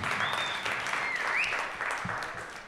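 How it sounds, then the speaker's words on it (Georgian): Audience applause at an MMA fight press conference before face-offs, a steady, fairly faint crowd clapping throughout, with a brief whistle-like tone rising above it. "მზად ხართ რომ გაიცნოთ ჩვენი წყვილები, მეგობრებო, აპლოდისმენტებით მანიშნეთ."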